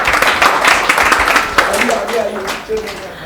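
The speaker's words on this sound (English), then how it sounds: "please give a big round of applause to them." Audience clapping at a yoga event on spine health, a busy spatter of hands that thins out toward the end while a voice speaks over it.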